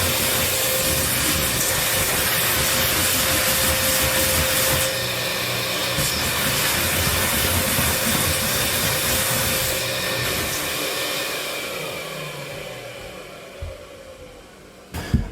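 A carpet cleaning machine fed by an ESteam Heatermate heater at 200°F gives a loud, continuous hissing whine with steady suction, fading out near the end; no one speaks.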